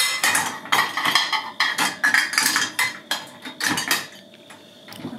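Forks, spoons and plates clatter and clink in quick, irregular bursts as they are stacked into the rack of a Midea MID45S900 dishwasher, close by with no talking.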